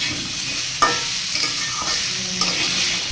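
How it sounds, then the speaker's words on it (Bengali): Vegetables for a vegetarian dish fry in a pan and get stirred, a steady dense sizzle broken by a few sharp spatula scrapes against the metal, close and fairly loud with no talking. "এবারে কিন্তু সবজিটা বেশ ভালো করে ভাজা হয়ে গিয়েছে"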